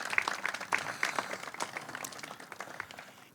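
Scattered applause from an audience at a county veterans event in Westchester County, a moderate patter of claps thinning out over a few seconds.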